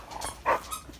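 A puppy gives a single short, high bark at close range in a home setting, standing out briefly over a steady background hiss.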